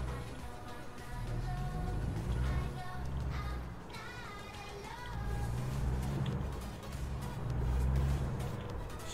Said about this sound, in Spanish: vamos a ponerle neutral para revolucionar el truck. Motor Cummins.